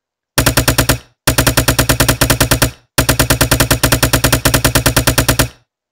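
Rapid automatic gunfire from a gun in a Unity-made video game, three loud close bursts of evenly spaced shots with brief pauses between them.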